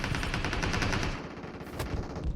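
Rapid machine gun fire in PUBG Mobile, a fast regular burst of shots filling the first second and a half, then easing into scattered gunfire and rumble.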